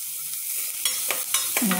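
Chopped onion and curry leaves sauté in a pan with a gentle sizzle, while a spoon stirs in several short scraping strokes close by.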